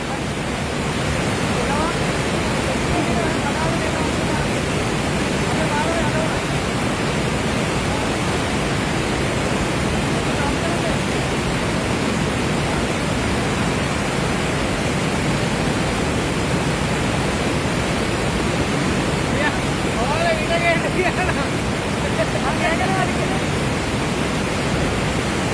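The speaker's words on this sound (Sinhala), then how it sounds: "මෙහෙම එකපාරට වතුර වැඩි වෙන්නේ" Floodwater suddenly surges and rises, a loud, steady broadband roar of rushing water that fills the whole stretch without pause, with faint voices barely showing beneath it.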